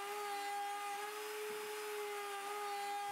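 A router with a 16mm bit cuts a groove in wood, giving a steady high motor whine with a constant pitch and a slight roughness from the cut, close and unbroken.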